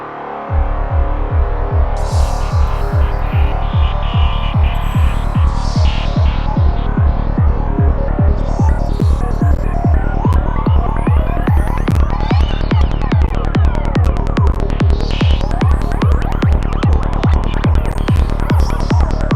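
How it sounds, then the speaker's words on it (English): Dark psychedelic ambience from a Serum synthesizer over a steady, pounding psytrance kick and rolling bass, the beat driving evenly throughout with swirling textures and rising high sweeps layered on top. "I've created some basic psytrance kick and bass, so you can hear how well does it sound with that."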